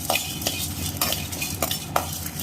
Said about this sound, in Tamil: இதை வந்து நம்ம லைட்டாக ட்ரை ரோஸ்ட் பண்ணிக்கலாங்க.